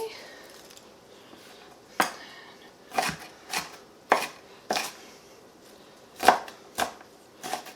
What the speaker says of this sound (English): I hate chopping onions sometimes.